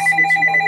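A telephone rings in a rapid, steady electronic trill of evenly pulsed tones, close and clear, with no voices over it.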